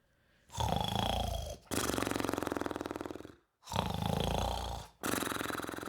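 Loud, deep snoring in long rattling breaths, three or four drawn-out snores separated by brief silent pauses.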